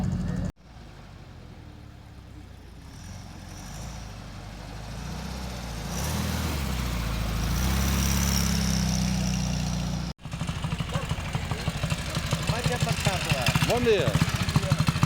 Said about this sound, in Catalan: Notem les vibracions dels tons greus dels escapaments.